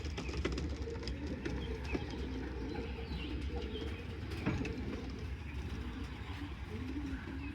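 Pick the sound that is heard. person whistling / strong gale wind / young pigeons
young pigeons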